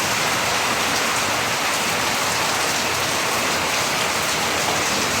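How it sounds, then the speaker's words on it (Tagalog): Heavy rain from Typhoon Kristine pours down steadily in Camarines Norte, Philippines, a dense, loud, unbroken hiss with no voices. "Lakas ng ulan."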